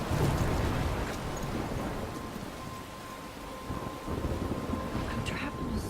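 Stormy weather in the Life is Strange video game: a steady, loud roar of rain and wind with crashing waves and low rumbling thunder, continuous throughout.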